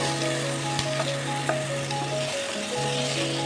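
Onion and tomato softening as they fry in a pan for an egg, potato and onion curry, a steady sizzle with a few stirring knocks and scrapes.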